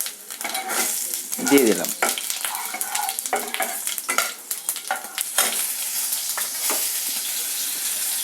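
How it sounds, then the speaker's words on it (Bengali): Cumin, fennel seeds, dry red and green chillies sizzle loudly in oil in a kadai, with busy stirring scrapes and crackles throughout, while a voice says a few brief words. "জিরে ফোড়ন, অল্প মৌরি ফোড়ন, সঙ্গে শুকনো লঙ্কা এবং কাঁচা লঙ্কা"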